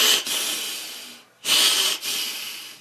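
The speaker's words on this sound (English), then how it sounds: "Quit breathing so heavy." Heavy nasal breathing, close and loud: two long hissing breaths split by a brief pause, each with a rough, snorting airflow and nothing else heard.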